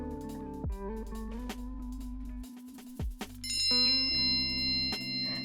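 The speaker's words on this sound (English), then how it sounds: "So there's the subscription bell, prompting you to consider subscribing to the channel" A bright bell-like notification ding chimes about midway, ringing out over soft, steady background music with sustained tones.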